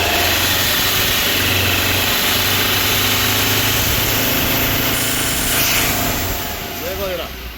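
2018 Ford Endeavour diesel engine running loudly up close at a workshop, a steady rumbling drone with slight rises in pitch as it is revved, and a voice talking briefly near the end.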